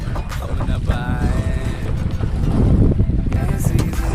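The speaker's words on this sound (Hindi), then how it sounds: "गंगा नदी का बहाव इधर हम शूट कर रहे हैं नाव पर चढ़ कर" A rowing boat on the Ganges river, with steady wind rush and low water and hull noise around, and faint voices in the background.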